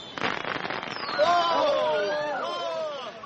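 Fireworks in a radio drama adaptation of Agatha Christie's Peril at End House: a crackle of pops, then whistling, squealing rockets rising and streaking, close and moderately loud, with voices underneath.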